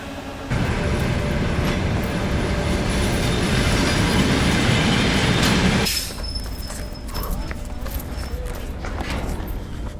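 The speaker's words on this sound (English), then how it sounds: "Trains don't stop for long on the B.A.M, so you have to jump on as soon as it gets here" Loud rumble and rattle of a train rolling into a station on the Baikal-Amur Mainline in Tayshet, Russia, wheels grinding and a high squeal, then the noise drops abruptly as it slows to a halt.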